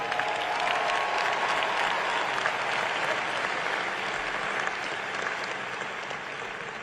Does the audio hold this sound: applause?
yes